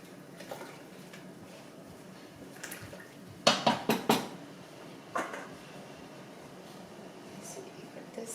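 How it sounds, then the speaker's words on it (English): Stirring vegan curry in a pot, with a few sharp clinks and scrapes of a utensil against the pot standing out over a low kitchen hum, clustered in a short burst with scattered softer knocks around it. "So we're going to stir this, make sure nothing's on the bottom is burned"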